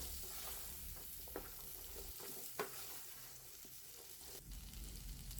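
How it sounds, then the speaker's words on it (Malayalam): About twenty-five to thirty finely chopped shallots fry in hot oil in a pan for a Kerala-style prawn roast, giving a steady close sizzle while a spoon stirs them with occasional scraping taps. "അതിനുശേഷം 25-30 ചെറിയുള്ളി ചെറുതായി കട്ട് ചെയ്ത് ഇട്ട് കൊടുത്ത് നന്നായിട്ട് ഇളക്കി കൊടുക്കുക"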